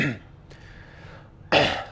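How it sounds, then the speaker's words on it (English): A single short, harsh throat clear bursts out near the end, loud and close, with a fainter rasp at the start, during a live painting session of Warhammer miniatures. "sorry if I'm clearing my throat a lot"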